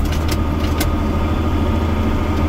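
A tractor engine idles steadily while hauling manure, a loud continuous low rumble with a few sharp clanks near the start.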